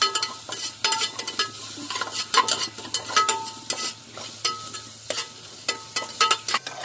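Crushed ginger and garlic sautéing in a pot for mutton soup: a steady close sizzle broken by repeated scraping stirs and clinks of a spoon against the metal.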